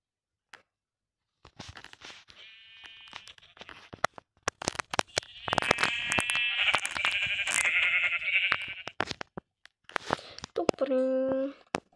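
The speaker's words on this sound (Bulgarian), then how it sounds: "Като за начало ще убия тази овца." Minecraft sheep bleating in short wavering calls amid clicks and hits, with a longer bleat near the end, while a player talks in Bulgarian.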